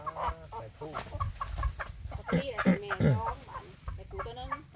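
Chickens clucking close by in a busy farmyard, with overlapping bursts of rooster calls and people talking in the background.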